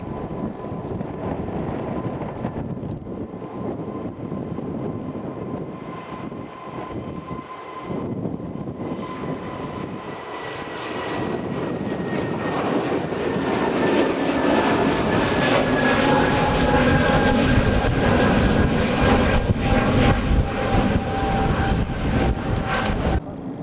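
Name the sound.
Scandinavian Airbus A320 Neo passing at Manchester Airport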